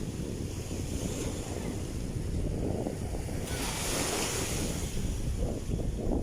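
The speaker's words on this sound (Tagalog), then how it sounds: "ganda po sana yung alon dito dahil high tide" Ocean waves at high tide along the shore at Baseco, Tondo, Manila, with floating garbage on the water: a continuous loud wash of surf with strong wind buffeting the microphone.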